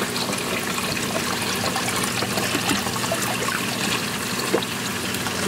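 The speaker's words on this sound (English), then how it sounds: "you see the water flowing there" Steady trickling water runs continuously from a reef aquarium's automatic top-off pump, a close, even stream with faint splashes and a low mechanical hum beneath.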